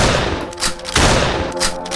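Gunshots in the horror video game Choo Choo Charles, a few sharp thudding bursts in quick succession over a rumbling, noisy background.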